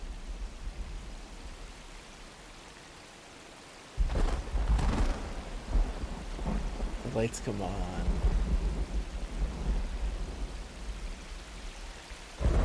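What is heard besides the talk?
thunder rumble and rain in video game Myst Online: Uru Live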